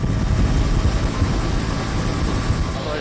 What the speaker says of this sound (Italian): L'elicottero è proprio sopra di noi